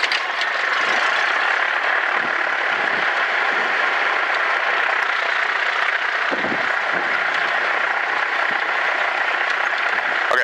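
Small training airplane engine running steadily after landing, a loud continuous drone filling the whole stretch with no break, close to the listener.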